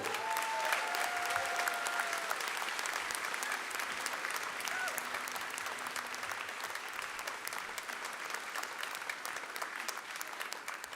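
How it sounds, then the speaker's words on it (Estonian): Loud, sustained applause from a concert audience at a school's 120th-anniversary alumni concert, a dense steady clatter of many hands lasting the full stretch, with a few faint voices underneath. "Tehke talle üks kõva aplaus, palun"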